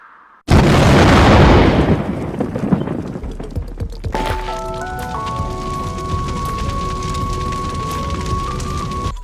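A loud explosive burst opens into a roaring, rumbling blast that fades over a couple of seconds, followed by lingering crackling and a sustained tonal hum.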